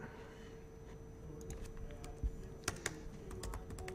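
Keys clatter in irregular bursts of typing on a computer keyboard, close by, with a few sharper taps toward the end over a low hum.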